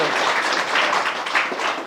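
An audience breaks into applause, a brief, steady patter of many hands clapping together with a faint murmur beneath it.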